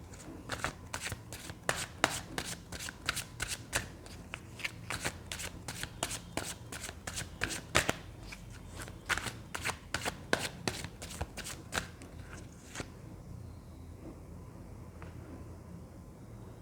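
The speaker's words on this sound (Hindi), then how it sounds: "जब तक मैं कार्ड शफल कर रही हूँ" Tarot cards being shuffled by hand, a fast run of crisp riffling snaps and flutters for about twelve seconds, then a quieter stretch with only a few soft taps.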